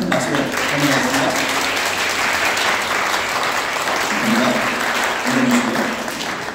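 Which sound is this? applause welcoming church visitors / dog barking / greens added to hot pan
applause welcoming church visitors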